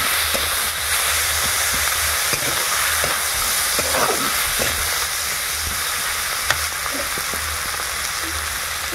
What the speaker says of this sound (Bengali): এই চিংড়িগুলো দেওয়া হচ্ছে, একটু ভেজে নেওয়া হবে